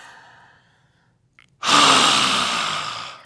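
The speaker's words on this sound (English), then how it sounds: "Now I just breathed in through my mouth, and that's okay too." A single forceful lion's-breath exhale in pranayama practice, a loud, breathy rush through the open mouth that fades gradually, following a quiet inhale and near silence.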